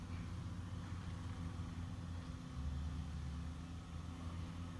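Caterpillar EX 340 excavator and truck engines working during land clearing in a Borneo mining area, a steady low mechanical drone that holds throughout with a slight swell near the middle.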